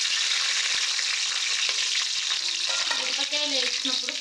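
Green chillies fry in hot oil and ghee for bagara rice, giving a loud steady sizzle and crackle throughout, close up with no talking.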